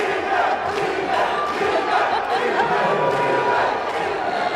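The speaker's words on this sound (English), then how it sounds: "the crowd cheering in the background, Senzo, Senzo, Senzo, Senzo" At a men's singles final, a large crowd cheers and chants loudly and continuously. Rival sections call out the players' names, Senzo and Regan, in rhythmic repetitions that blend into one dense, sustained roar.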